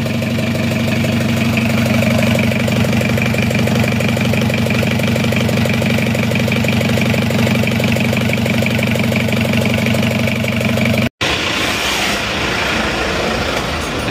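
A freshly installed Isuzu Panther engine, rebuilt after a cracked liner, idles on a stand with a steady, loud rhythmic chugging and knock, then cuts briefly and carries on with a different tone.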